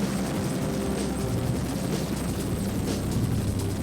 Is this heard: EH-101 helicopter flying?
yes